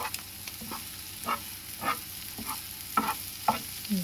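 An egg omelette fries in a pan with a soft, continuous sizzle while a spatula scrapes and stirs in occasional short strokes, close and fairly quiet.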